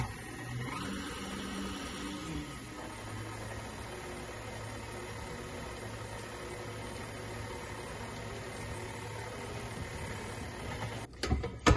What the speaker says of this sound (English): I'm gonna whisk this together until it is just combined